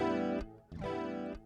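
Electric travel guitar, a Donner Hush-i Pro, plays through an echo delay effect: two strummed chords, each ringing and decaying with repeats, separated by a short gap, loud and close with no talking.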